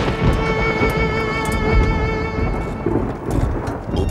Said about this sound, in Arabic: وبعدين عاصفة كبيرة